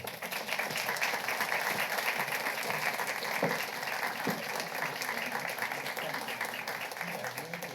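Audience applause at the Women's Society of Washington University 2024 annual meeting, honoring Judy and Emily: a steady, moderately distant wash of clapping from a crowd that carries evenly through the whole stretch.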